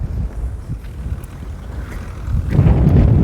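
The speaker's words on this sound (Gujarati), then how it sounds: "જરા પવનનો અવાજ આવીએ, પવન બહુ છે." Strong wind buffets the microphone in low rumbling gusts, building louder toward the end.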